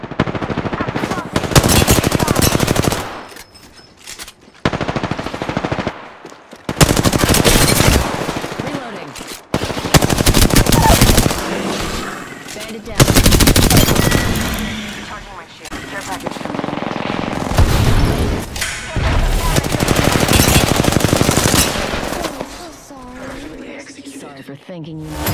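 Loud automatic weapon fire rattles in repeated close bursts during an Apex Legends match on a PS4 Pro, separated by short quiet gaps and mixed with game voices.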